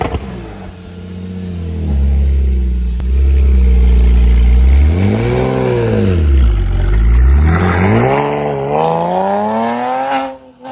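A 2010 Porsche Cayman S with a 3.4-liter direct-injection flat-six, heard in a Need for Speed racing game, revs loud and close, climbing and falling through several rising sweeps over about ten seconds before cutting off abruptly.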